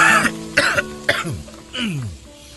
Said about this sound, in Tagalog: mukhang sama niyang ubo mo ah